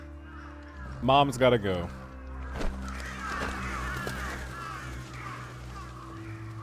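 Crows caw in Final Fantasy XVI, a few loud harsh calls in quick succession followed by fading ambient game sound, with a voice speaking briefly over it.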